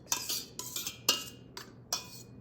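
A utensil working through thick whipped cream for a chocolate cream pie: five quick scraping, clinking strokes against the bowl, close and distinct, with brief pauses between them.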